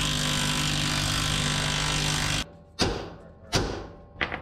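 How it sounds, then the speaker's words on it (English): A steady loud machine drone cuts off, followed by three sharp hammer blows striking a ball joint press on a 1977 Datsun pickup's front suspension, spaced about a second apart. "We'll take her home with the hammer anyhow."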